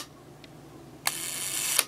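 A Leica IIIb rangefinder shutter, freshly overhauled with new curtains, opens with a sharp click and snaps closed under a second later, two crisp close metallic clicks after a faint earlier tick, with no talking.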